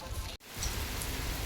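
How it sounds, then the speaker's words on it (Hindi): Steady, dense rain noise pours down continuously, broken by a brief dip in sound near the start, with no voices. "देखो, बारिश बहुत ही तेज़ हो गई है,"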